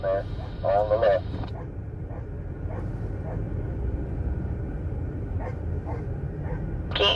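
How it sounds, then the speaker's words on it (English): A dog at a convoy rally barks in short bursts, somewhat muffled and in the background, over a continuous low rumble, with a few louder voiced sounds at the start and close. "Can't hear you guys over my dog barking."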